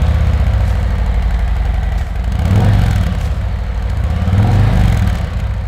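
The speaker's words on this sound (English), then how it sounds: "This is what the stock exhaust sounds like." A Harley-Davidson Road Glide ST on its stock exhaust idles with a deep, loping low rumble, loud and close, with slight swells in the beat.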